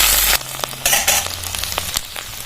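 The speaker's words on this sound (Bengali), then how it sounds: "আদাটা ভালো করে ভেজে নেব" Ginger paste frying in a pan with five-spice and turmeric, a steady close sizzle broken by scraping stirs and clinks of a spoon against the pan.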